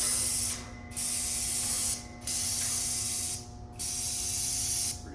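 A Graco FinishPro II 395 paint sprayer in airless mode sprays in three loud, steady hissing bursts of about a second each, separated by brief pauses, with a constant mechanical hum underneath.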